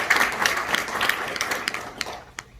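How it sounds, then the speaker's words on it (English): A crowd claps in a steady patter of applause, fairly close, tapering off toward the end with a few scattered final claps. "Give him a round of applause"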